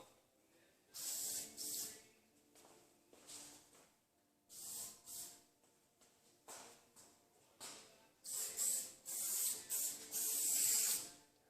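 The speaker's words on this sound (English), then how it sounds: "Just a light mist of this over the spots where I'm going to fill." Short bursts of aerosol spray put a light mist onto the plastic body kit of a 1989 BMW E30 M-Tech II under repair, several hissing sprays of varying length separated by quiet gaps.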